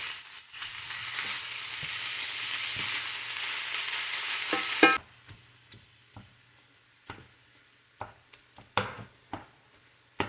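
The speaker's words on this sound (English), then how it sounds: "So while our sausage is getting cooked up" Deer sausage frying in a hot skillet, a loud steady sizzle that cuts off abruptly halfway, followed by sparse scrapes and taps of a utensil stirring and breaking up the meat.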